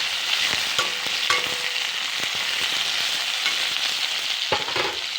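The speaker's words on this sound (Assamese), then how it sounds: "আলুখিনি যেতিয়ালৈ ৰঙা নহয় তেতিয়ালৈকে ভাজিয়ে থাকিম।" Potato pieces fry in hot oil for an Assamese paneer mutter recipe, a dense continuous sizzle close by with occasional clicks of a spatula stirring through the pan.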